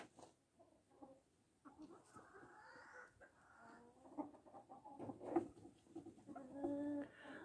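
Hens clucking and cooing softly while dust bathing in sand, with a steady run of low murmuring calls and a few brighter cackles rising toward the end, close by and with no talking.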